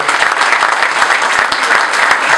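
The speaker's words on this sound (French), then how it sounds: "Je pense que vous méritez des applaudissements pour l'originalité." An audience claps steadily and densely throughout, warm applause at a constant level with no voices over it.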